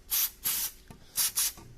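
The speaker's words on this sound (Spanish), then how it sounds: "Y por ejemplo le damos así para que vaya haciendo efecto, y como veis ya incluso con el mismo spray se despega" Carburetor cleaner sprayed from an aerosol can onto the cylinder head of a Honda GX kart engine, four close hissing bursts in quick succession with short pauses between.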